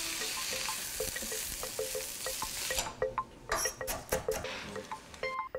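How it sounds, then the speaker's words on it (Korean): Sliced eggplant stir-fried in a hot pan, a steady loud sizzle with scattered clinks and scraping of a utensil stirring, then sharper bursts of tossing and clattering toward the end. "가지 썬 것을 넣고 볶아주세요"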